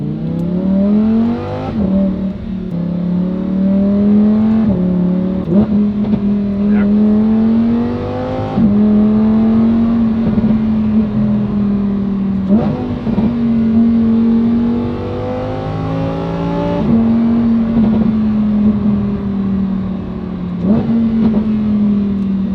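Lamborghini Huracan STO with a titanium exhaust and its valves open, heard from inside the cabin, rising and falling through a run of loud, sustained revs with brief dips between pulls.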